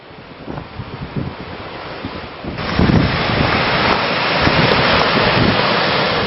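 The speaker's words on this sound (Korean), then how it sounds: "파도는 어제보다 더 거칠다." Rough sea waves surge and crash continuously, with heavy wind buffeting the microphone. The roar grows louder partway through.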